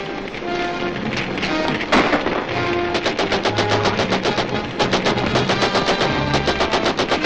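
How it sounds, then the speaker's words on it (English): Rapid bursts of gunfire from the 1941 serial Adventures of Captain Marvel: dense rattling volleys of shots, loud and close, with a heavier thump partway before the firing resumes in quick rhythmic strings. "Gunfire."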